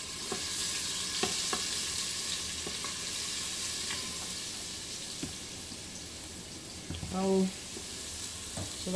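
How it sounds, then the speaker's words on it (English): Minced garlic frying in vegetable oil gives a steady, close sizzle that runs throughout, with a few light clinks of stirring and a brief louder burst near the end. "I'm gonna add a little bit of minced garlic to the vegetable oil."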